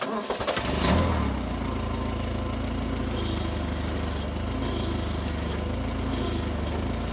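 A forklift engine cranks with a rapid stuttering turnover, catches after about a second, then settles into a steady, rumbling mid-pitched idle nearby, with no talking over it.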